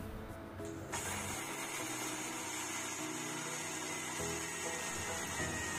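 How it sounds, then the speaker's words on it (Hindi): Mixer grinder running with roasted peanuts in the jar, a steady loud motor whir with grinding churn, heard alone without talk. "सिकी हुई मूंगफली को हम जार में डालेंगे और ग्राइंड करेंगे।"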